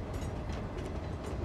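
Trains running along rail tracks in the city-building game Cities Skylines 2, a steady low rumbling roll with faint rhythmic clatter, continuous and moderately distant, no voices.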